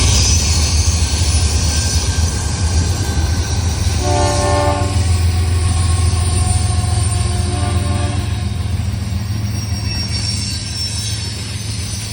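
A long Norfolk Southern freight tank train rumbles past close by in Alliance, Ohio, with steady clattering wheels, and a loud locomotive horn blares for a few seconds in the middle.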